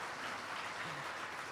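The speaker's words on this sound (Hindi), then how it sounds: "तालियां बड़ी कमजोर है" Faint, steady applause from an audience at a Hindi Ram Katha religious discourse, a soft continuous wash of many hands with no distinct peaks, heard at a distance.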